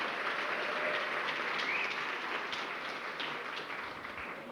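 Audience applause at a school graduation ceremony in Sudbury, a dense, steady wash of many hands clapping that carries on throughout and tapers slightly toward the end.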